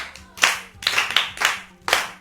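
Children clap in a rhythmic burst during a Yoruba children's programme, five sharp group claps spaced about half a second apart, close and fairly loud, with no talking over them.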